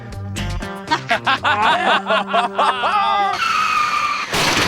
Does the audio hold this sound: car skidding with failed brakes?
yes